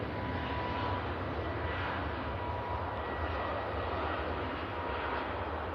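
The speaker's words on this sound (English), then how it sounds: "speaking of new Jet 2 planes, one's just landed as well" A new Jet2 passenger jet landing at Manchester Airport, a constant rumbling engine roar heard from a distance, steady and unbroken throughout, with no voices over it.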